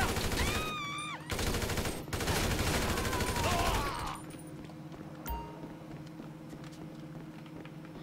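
Rapid automatic fire from a Beast AR assault rifle in GTA V, dense sustained bursts for about four seconds with a short gap, then quieter ambience with a single sharp report later.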